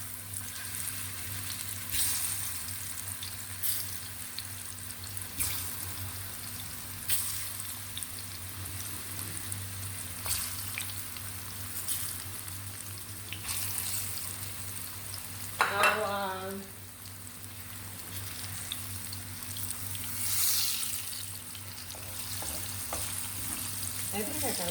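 Plantain and prawns sizzle and fry steadily in a pan, a close, constant crackling hiss with occasional stirring and clinks.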